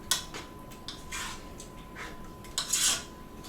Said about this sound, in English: Let's use our peanut butter spoon to stir it with.